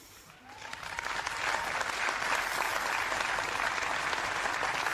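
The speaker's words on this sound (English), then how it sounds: "They're even applauding me because they know I'm right." An audience applauds, the clapping starting soft and swelling within the first second into a steady, dense roar of many hands that holds loud to the end.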